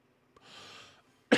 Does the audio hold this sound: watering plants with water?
no